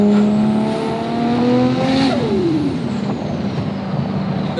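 Nissan R32 GTR with a built 750 hp 2.6-litre RB26 twin-turbo straight-six, heard from inside on city streets: steady loud engine drone that climbs under boost, then drops in pitch as revs fall, with no talk.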